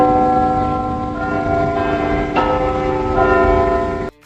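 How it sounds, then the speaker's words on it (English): Church bells in London chiming the quarter hour, their long ringing tones sustained and layered, loud and close with a fresh strike midway, then cut off abruptly at the end. "It's also a lovely place to stop and wait for the bells to chime on each quarter of the hour."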